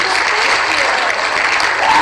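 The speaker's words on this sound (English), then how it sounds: "We're going to do a round of applause." Studio audience applause on a talk show, a steady wash of many hands clapping that fills the whole stretch at full loudness, with no voices on top.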